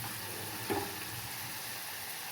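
Onions sizzle in hot oil for brinjal dal, with a steady, faint frying hiss running throughout and a brief clink partway through.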